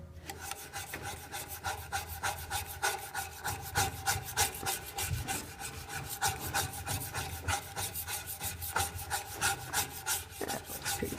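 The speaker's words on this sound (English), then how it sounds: "And all you need to do is scrape the inside a little bit like that" A small razor blade scraping the inside of a piece of fire-building material, giving a soft, steady rasping rub in quick repeated strokes, close and fairly quiet, with no talking.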